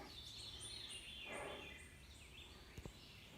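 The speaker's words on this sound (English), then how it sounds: "Can you hear the birds?" Woodland birds on the North Country Trail chirp and trill faintly in the distance over a steady outdoor hush, with a couple of soft knocks near the end.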